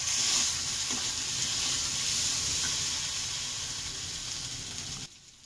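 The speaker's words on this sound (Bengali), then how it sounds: "একটু হলুদ দিয়ে দেওয়া হলো, দিয়ে ভালো করে কষাবো।" Spices with salt and turmeric sizzling steadily in hot oil for a shrimp-fritter curry, a continuous close frying hiss with faint stirring scrapes, fading gently before cutting out near the end.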